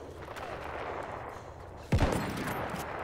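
A single sharp, loud rifle shot from Battlefield 1 cracks out near the middle, followed by a short decaying tail over the constant rumble of a distant battle.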